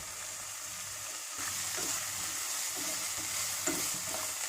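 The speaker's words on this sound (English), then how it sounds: "Let us fry it till it turns golden color." Onions frying in a pan with a little salt, cooking toward golden brown: a steady broadband sizzle that grows louder after the first moment, with occasional spatula scrapes and stirring clatter close by, no talking.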